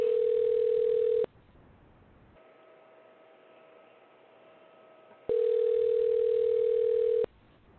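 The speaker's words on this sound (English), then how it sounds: "This number may not be right." A telephone line gives a steady tone in long bursts separated by a quieter hum while a call is being attempted, loud and clean with no voices over it.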